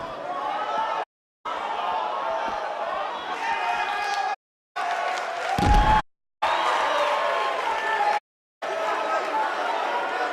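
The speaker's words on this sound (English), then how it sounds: "We have a sold-out setting crowd here for BC tonight." A sold-out wrestling arena crowd roars in the WWE 2K19 video game, a loud dense chatter and cheering bed broken by brief silent gaps, with a thud in the middle.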